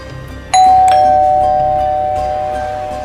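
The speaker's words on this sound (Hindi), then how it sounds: "घंटी हो घंटी बजा" A two-tone doorbell chime rings out, ding then dong, each tone ringing and slowly fading, clear and close.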